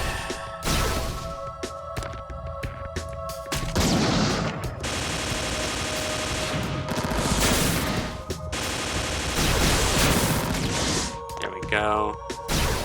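Guns fire in the Madoka Magica Wii U game, loud and dense, with rapid bursts and sustained fusillades broken by brief gaps and a sharp crash near the end.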